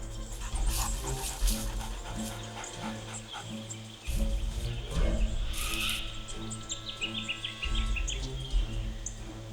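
A pack of large dogs chases a mother kangaroo carrying her joey through the Australian bush, with loud barking and panting that comes in bursts over a constant wash of wildlife and background noise.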